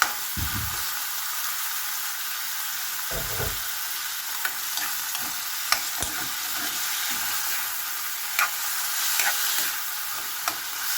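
Minced beef frying in a pan for a sigarilyas dish, with a continuous bright sizzle throughout and a few dull thuds and clicks of the spatula early on.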